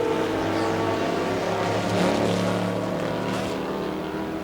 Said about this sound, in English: Boy, the entire earth just vibrates when that big V8 rumbles past.